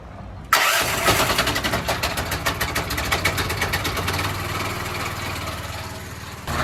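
A small gas engine on a budget trash bin cleaning rig cranks and catches after a quiet moment, then runs loud and steady with a pulsing, choppy rhythm close by.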